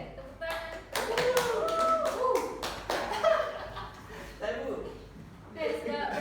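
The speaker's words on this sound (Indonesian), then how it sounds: "Oke, tepuk tangan." Students clap hands in a classroom during a lesson on Quran recitation rules, bursts of patchy clapping mixed with voices and chatter, moderately close and fairly quiet.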